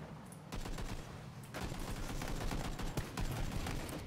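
Rapid gunfire in the battle royale video game PUBG, bursts of automatic fire crackling almost continuously after a brief quieter start, dense and loud with repeated shots overlapping.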